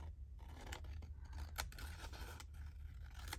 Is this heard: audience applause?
no